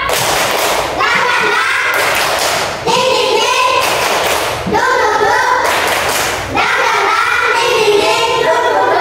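Primary-school pupils clap a rhythmic spirited chant in a classroom, loud bursts of fast clapping in several rounds with brief pauses between them, voices chanting along.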